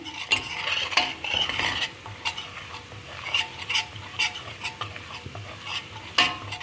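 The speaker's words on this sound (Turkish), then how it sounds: "Beyaz unla mısır unumu iyice kavuracağım." White flour and corn flour are toasted in a pan while a utensil scrapes and stirs, giving repeated scraping and clinking strokes over a soft, continuous sizzle. The sound is close and moderately loud, with no talking.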